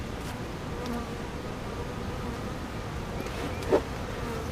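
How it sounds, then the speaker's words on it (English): Honey bees buzz steadily around an open hive during an inspection, a dense, even drone close by with a brief louder passing buzz near the end. "And a nice amount of bees on the outside as well"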